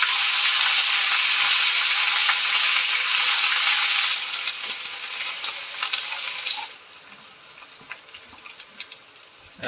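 Onion paste frying in a pan with cumin for a nawabi katla fish curry, a loud hissing sizzle at first that drops in two steps to a quieter crackle with light stirring.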